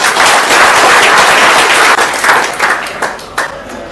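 An audience at a steel company's felicitation and discussion event gives dense, loud, steady applause for the managing director, fading slightly toward the end.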